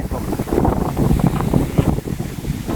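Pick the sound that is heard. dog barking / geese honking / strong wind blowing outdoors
strong wind blowing outdoors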